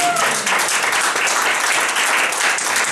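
A church congregation breaks into loud, sustained applause, a dense wash of clapping that holds steady from start to finish, and a voice is briefly heard at the very beginning.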